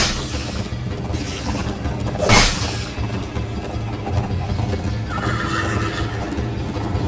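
Galloping horse in the Minecraft: Story Mode video game, with a loud whinny around the middle over a continuous rumbling backdrop of hoofbeats and game sound effects; no speech.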